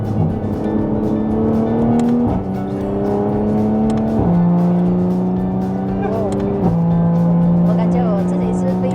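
A 550 hp Toyota Supra accelerating hard from inside the car, a loud engine rising in pitch through several quick gear changes.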